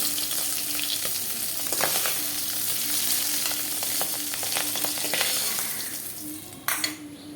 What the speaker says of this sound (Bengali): মাছগুলো আমার ভাজা হয়ে গেছে এইভাবে ভেজে নেবো